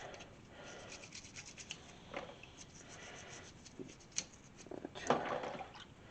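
Metal miniatures scrubbed in soapy water, a soft continuous rubbing and wet swishing close by, quiet with a few sharper scrapes and splashes toward the end.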